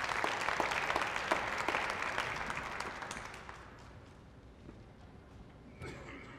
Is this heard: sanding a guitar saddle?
no